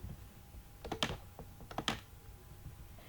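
HTML code is typed on a computer keyboard in two short quiet bursts of several key clicks each, close up, against a faint hum, with no speech.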